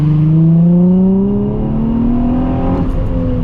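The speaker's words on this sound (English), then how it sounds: "the sound of this car drifting" A new Nissan Z drifting at Tokyo Auto Salon 2022, its engine loud and close, holding a steady high rev under load that climbs slowly and briefly dips, with a faint whir from the drivetrain.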